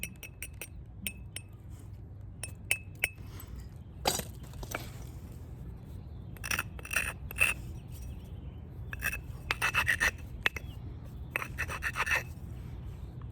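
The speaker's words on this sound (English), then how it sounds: "This is probably a better hammerstone for that because it's smaller." A small hammerstone works boxwood against basalt in light, scattered taps and scrapes, sometimes single and sometimes in quick clustered bursts, quiet and close with no talking.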